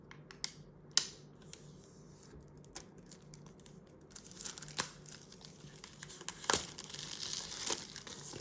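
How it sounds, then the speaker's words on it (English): Pull tab and plastic wrap being peeled off Apple Pencil 2nd generation packaging, close and quiet: scattered crinkles and snaps at first, then denser rustling and crackling toward the end. "Get that plastic off"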